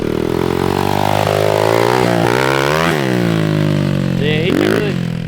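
A small dirt bike runs a backyard jump track, its engine close and loud, revving up and down in rising and falling whines as it climbs and drops over the jumps, with brief talk underneath.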